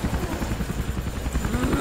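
Helicopter in the Roblox zombie survival game Those Who Remain, a steady low rotor chop throbbing continuously at moderate loudness, with a faint voice in the background.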